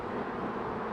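Honey bees humming inside an opened hive while a swarm is being boxed, a dense, even buzz held close and quiet for a brief moment.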